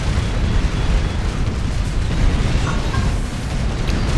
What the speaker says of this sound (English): destroy that power plant, and it got destroyed.